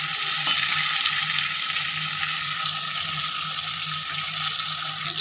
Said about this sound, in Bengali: কড়াইতে দিয়ে মাথাগুলো বেশ সুন্দর করে ভেজে নেব।